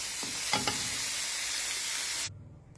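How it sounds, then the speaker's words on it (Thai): Fermented fish roe stir-fried in a hot pan, a steady close sizzle with a few spatula scrapes and taps, cut off abruptly near the end. "คั่วส้มไข่ปลานะคะเพื่อน ๆ"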